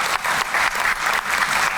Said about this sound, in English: We ought to give that a round of applause.